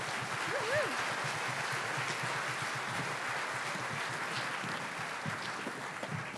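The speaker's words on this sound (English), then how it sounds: "So round of applause for those guys." Steady applause from an audience at a school band concert, sustained and even for several seconds, with a voice briefly heard over it near the start.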